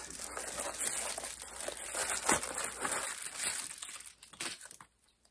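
Cardboard packaging from an online order is sliced and torn open nearby, a run of crinkling, scraping and ripping noises that stops abruptly into near silence.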